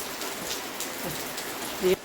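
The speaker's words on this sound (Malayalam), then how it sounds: "നല്ല മഴ, രാവിലെ നല്ല മഴയുണ്ട്." Steady morning rain falls on surfaces in a Kerala home setting, a continuous broadband patter with scattered drops, and a brief voice-like tone near the end.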